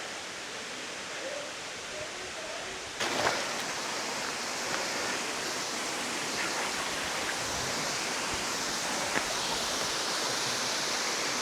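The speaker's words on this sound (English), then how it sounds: "There's the waterfall." Bonita Falls waterfall in Lytle Creek, San Bernardino National Forest, a steady broadband rush of falling water, constant and moderately loud, with a slight step up in level after a few seconds.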